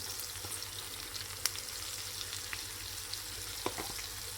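Peppers stir-fried with a spoonful of flour in a pan give a steady, close sizzle with scattered small clicks and scrapes from stirring, no voices over it.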